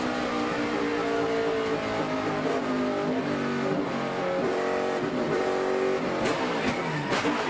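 NASCAR race cars roar around the track in a loud, continuous engine drone with rising and falling revs as several cars pass close by.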